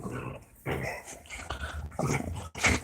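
An American bully dog whimpers and growls in short bursts, close by and fairly quiet, with choppy rumbling growls broken by brief pauses and a whine near the end.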